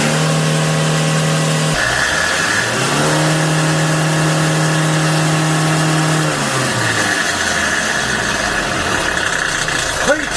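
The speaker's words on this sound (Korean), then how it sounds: "가속 페달을 밟아 보도록 하겠습니다" The engine of a Hyundai Porter 2 truck idles with steady tones, then the accelerator is pressed and it revs up, dips, and climbs again strongly past 4500 rpm, a loud close mechanical drone.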